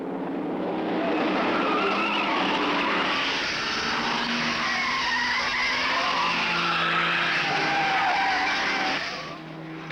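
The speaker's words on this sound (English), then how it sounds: "Moffat accelerates the GTHO to something around 140 miles per hour down Conrod" Ford Falcon GTHO race cars at Bathurst in 1971, engines roaring at high speed down Conrod Straight in a loud, sustained drone with tire noise and a slight fade at the end.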